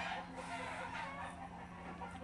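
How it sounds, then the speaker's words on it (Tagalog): Chickens cluck faintly in the background at a grill spot, giving soft, scattered calls over a low ambient hum, with no clear voices. "Manok."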